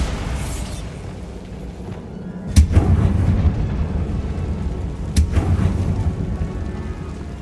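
Bombarda spell explosions in Hogwarts Legacy, two heavy booming blasts a few seconds apart, each a sharp crack followed by a deep rumbling roar over ongoing low background noise.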